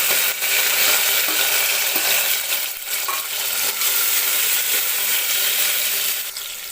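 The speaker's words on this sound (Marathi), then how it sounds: "टोमॅटो आपल्याला व्यवस्थित तेलामध्ये भाजून घ्यायचा आहे" Curry leaves and chopped tomato fry in hot oil with garlic in a pan, a loud continuous sizzle and crackle with occasional stirring scrapes, close up.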